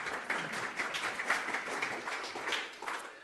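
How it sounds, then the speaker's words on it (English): Audience applause for a speaker at a science talk, a steady wash of clapping from a crowd throughout, moderately loud and without speech. "Round of applause, Ben."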